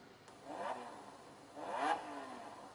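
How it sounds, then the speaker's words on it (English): Lamborghini engine start sound played through the built-in speakers of an Asus VX7 laptop: two loud revving bursts, one near the start and another about a second later, each swelling and fading. "the standard Lamborghini engine sound"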